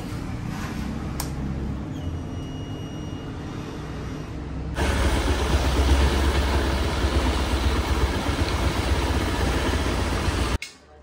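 Rebuilt Hero Xpulse 4V motorcycle engine running at a steady idle nearby, then rising to a louder, rougher roar about halfway through before cutting off abruptly at the end.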